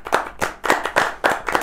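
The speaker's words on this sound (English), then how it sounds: "can we have a round of applause?" A small group claps in a short round of applause in a casual indoor setting, the bursts of clapping coming in uneven waves, fairly close and clear.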